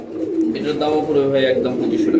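A pair of Bombay pigeons, fancy breed pigeons, coo steadily and close up in a loft, a continuous layered murmur of overlapping coos.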